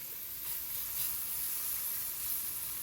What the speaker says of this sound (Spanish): Por acá estuve picando tomate, ají y cebolla morada y los voy a poner a saltear un poco para preparar luego los huevitos.